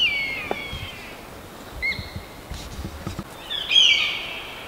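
A bird calls from the open sky over British Columbia nature, giving a few short, high chirps spread across several seconds. The calls are moderately faint and distant over a quiet outdoor background, with no talking.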